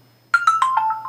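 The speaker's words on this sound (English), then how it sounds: "And that was my phone." A mobile phone ringtone chimes a quick descending run of about six clear electronic notes, loud and close with nothing else audible behind it.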